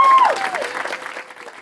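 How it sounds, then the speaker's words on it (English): Audience applause for junior players at an Indian Gymkhana Club centenary presentation in London, a loud burst of clapping from a crowd that fades slightly over its length. "so a round of applause to them"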